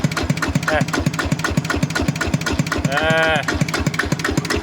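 An RT120 walk-behind farm tractor engine runs steadily nearby with a fast, even single-cylinder thumping. A long lowing tone rises briefly over it, and someone speaks at times.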